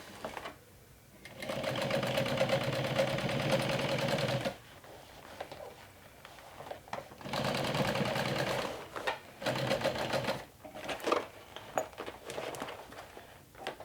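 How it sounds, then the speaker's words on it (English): A sewing machine top stitches a backpack being turned into a handbag in three bursts, a long run, then a medium one, then a short one, separated by soft handling sounds. "You want to top stitch like so."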